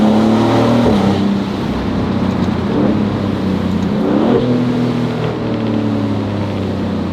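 A 2025 Maserati GranCabrio Trofeo's modified engine roars loud and close, its pitch climbing through gear changes as the car accelerates hard.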